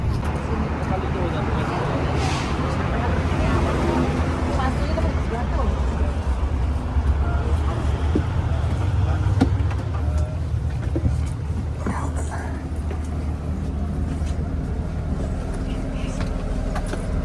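Inside a bus heading to the airport on an umrah family trip, a constant loud engine rumble and road roar with rattles and thumps, people talking throughout over the noise.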